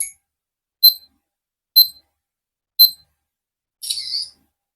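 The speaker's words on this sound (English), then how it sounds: "let me take a photo close up" A budget action camera takes a close-up photo: three identical short, sharp electronic beeps evenly spaced about a second apart, then a brief, brighter shutter-like chirp, heard close and alone.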